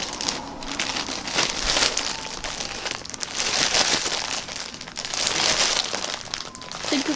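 Continuous crinkling and crumpling of a plastic Loot Crate package being handled and pulled open, close up, with no talking.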